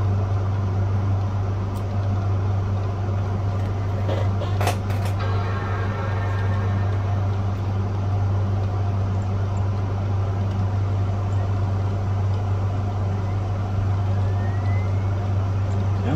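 A CD drive spins inside a computer booting from a CD, giving a steady, fairly loud motor-like hum that holds an even pitch throughout. A few faint clicks come through near the middle.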